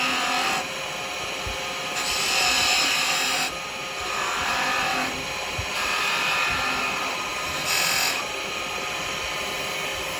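Sandpaper pressed against a wooden pen blank spinning on a woodturning lathe: a steady close motor whir with several louder, hissing rasping passes of a few seconds each, surging and easing, with no voices.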